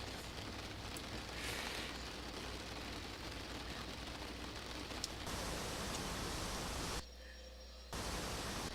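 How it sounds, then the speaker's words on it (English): Steady hiss of rain drumming on a Dash-8 Q400 turboprop airliner in a flight simulator, a dense continuous wash over a low engine drone, dipping briefly near the end. "we're still not out of the rain yet"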